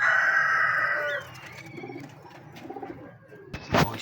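A female pigeon coos in low, soft repeated phrases after a steady hum fades, followed by a brief fluttering rustle near the end.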